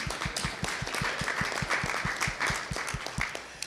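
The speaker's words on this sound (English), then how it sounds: "okay, we'll clap for that. We'll clap for that, thank you." An audience at a community meeting claps, many hands forming a steady, moderately loud patter, with a few distinct hand claps close by keeping a quick even beat over the crowd's applause.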